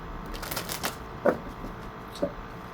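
Tarot cards riffle and shuffle close by in a quiet room, a papery flutter of rapid slaps followed by a couple of distinct card snaps as one is drawn.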